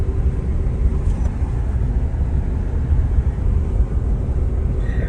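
A Toyota Fortuner four-wheeler driven slowly by a beginner, heard as a steady low engine and road rumble from inside the vehicle, constant and fairly loud throughout with no talking.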